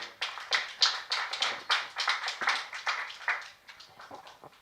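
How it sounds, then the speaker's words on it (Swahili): An audience at a youth agribusiness competition claps in quick, uneven bursts, moderately close and fairly light, fading toward the end with no talk over it. "Hiyo tu makofi yake."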